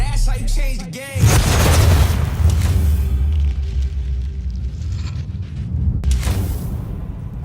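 Explosions in a Call of Duty: Black Ops 4 trailer: a deep boom bursts in, followed by sustained low rumbling and crackling debris, with a second sharp hit near the end; loud and close.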